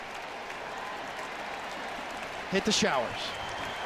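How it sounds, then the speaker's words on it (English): A sellout crowd at a Yankees–Blue Jays baseball game gives a pitcher leaving the mound a hand, applause under steady crowd noise with a voice talking over it. "Gets a nice hand from the sellout crowd"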